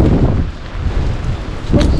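Strong wind buffets an open boat on a fishing trip off Bermuda, a steady low rumble of gusts battering the microphone throughout with a brief brighter gust near the end.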